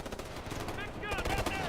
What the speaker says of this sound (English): Machine gun there.